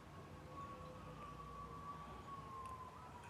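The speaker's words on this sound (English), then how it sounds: "I hear sirens." A faint siren wails far off across rural countryside, a thin steady tone drifting slightly in pitch over quiet background hiss.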